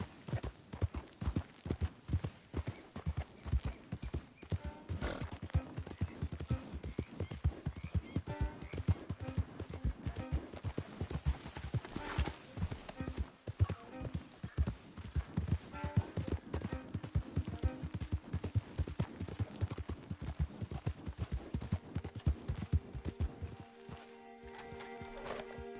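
In Red Dead Redemption 2, a horse gallops with rapid, rhythmic hoof clops that stay close and steady for about twenty-four seconds, then stop abruptly, with faint game sounds underneath.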